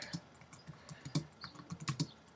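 Light, quick clicking on a computer keyboard while entering text in Photoshop, an irregular patter of soft key presses, close and fairly quiet.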